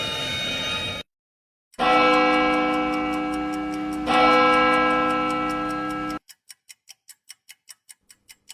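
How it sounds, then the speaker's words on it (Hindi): A wall clock ticks in a steady, even rhythm, sharp and close, starting up after a sustained droning tone cuts out. "ये घड़ी तो बंद थी, अचानक चालू कैसे हुई?"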